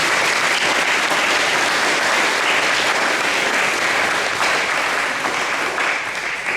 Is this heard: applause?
yes